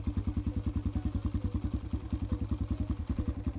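A 2018 Kawasaki KLX140L pit bike engine idles steadily right after starting on choke, a close, loud, rapid even thumping that runs alone without a break.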